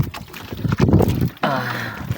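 A motorboat passes by with a steady, droning engine hum that rises after a stretch of wind buffeting on the microphone.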